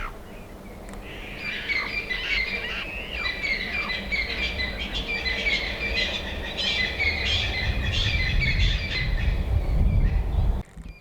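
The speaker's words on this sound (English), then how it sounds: "The bird and animal life is just exceptional." Wild birds calling at Khama Rhino Sanctuary in Botswana, a continuous chorus of chirps and squawks heard outdoors over a low rumble that builds toward the end.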